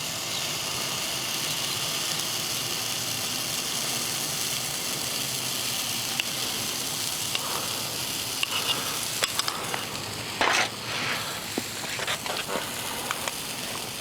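Butter sizzling in a frying pan, a steady close hiss that runs the whole time, with small pops and occasional clinks late on.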